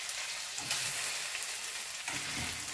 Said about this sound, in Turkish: Salçayla da kavuruyoruz.